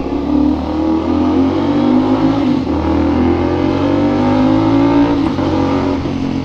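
A 450SR motorcycle fitted with an SC Project exhaust pulls hard under acceleration, its loud engine note climbing steadily close up with wind rush and no pauses.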